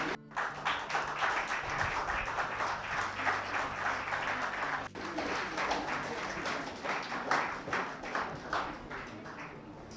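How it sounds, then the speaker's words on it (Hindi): Audience applause at a Women's Day award ceremony in the Shekhawati community, the clapping of a crowd rising into a steady, loud ovation that holds for the full stretch with only a brief dip midway. "एक बार विजेता मैम के लिए जोरदार तालियां हो जाए।"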